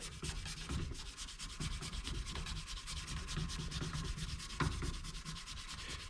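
Hand polishing the rear shock of a Honda Monkey motorcycle, a close, quiet, rhythmic rubbing with fast back-and-forth strokes and no talking.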